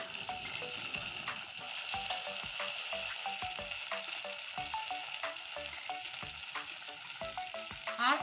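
Taro leaves with dried red chilli, turmeric and coriander powder frying and sizzling steadily in a pan, with a spoon stirring and scraping in irregular clicks close up, no voices.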